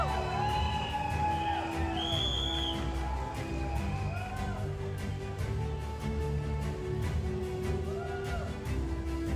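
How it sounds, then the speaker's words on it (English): An audience at a Mr & Miss Bunts pageant show cheers, whoops and applauds a contestant, a loud sustained crowd roar with scattered shouts and whistles running throughout. "Ladies and gentlemen, have a great round of applause for Mr. Sumit Shetty."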